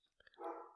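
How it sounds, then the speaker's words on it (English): A pet dog barks once indoors, a short muffled bark preceded by faint clicks, fairly close but quiet. "Pardon that if you hear my dog barking."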